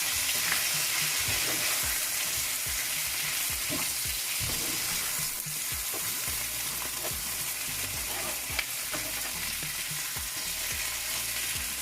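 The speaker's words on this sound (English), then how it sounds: "and we're just gonna toss the onions in. And now you're gonna give it a stir." Onions with paprika sizzling in a skillet for potatoes, a steady close frying hiss with repeated scraping and tapping as they are stirred, continuing unbroken without speech.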